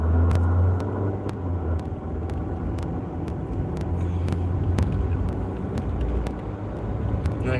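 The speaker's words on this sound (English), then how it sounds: "I got some Nissan Altima passing me" A Nissan Altima passes close by on the road, a steady broad engine and tire rumble heard from inside a vehicle, with faint intermittent clicks over the continuous drone.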